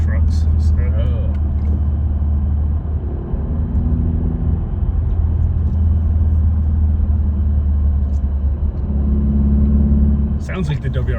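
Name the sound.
Subaru Legacy 2.5 exhaust with Nameless axle-back muffler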